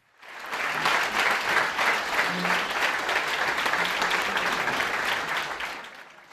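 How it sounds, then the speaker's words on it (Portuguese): Prisoners applaud Pope Francis in sustained, dense clapping that swells in quickly and holds steady at full strength for several seconds before easing off. "E depois houve mais aplausos."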